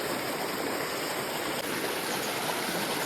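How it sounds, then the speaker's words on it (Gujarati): Water rushes loudly and continuously from a close summer waterfall, a strong, full, unbroken roar. "કેટલું પાણી જાય છે ભર ઉનાળે પાણીનો ધોધ"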